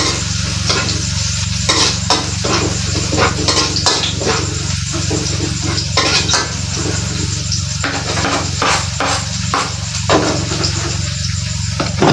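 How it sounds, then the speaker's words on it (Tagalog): Garlic and onion sautéing in a pan, a loud, close sizzle with repeated scraping stirs of a utensil against the pan running throughout. "Gisa na tayo ng bawang sibuyas."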